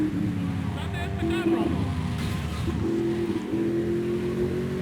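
A car driving in GTA Vice City, its steady engine drone rising and settling in pitch with gear changes, sitting at moderate level under continuous background game sound.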